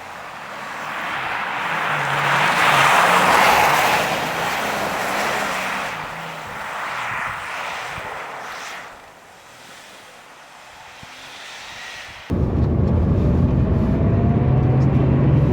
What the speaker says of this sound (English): we are back in the little 993 Martini car that I started the video in, and we're doing a forest rally stage on the ice